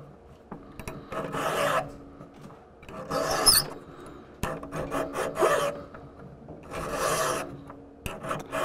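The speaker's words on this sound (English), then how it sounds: "So the first step I'm going to do is to get the tip flat and just sharpen each edge around the side." A metal file rasps across the tip of a steel jewelry stamp being flattened and sharpened, with strokes in bursts, near and alone, with the stamp turned between strokes.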